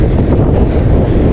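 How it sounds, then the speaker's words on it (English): Strong wind buffeting the microphone on a mountain top in Bulgaria's Blue Mountains near Zheravna, a loud, steady roar with gusty low rumble throughout and no voices. "it's got quite windy"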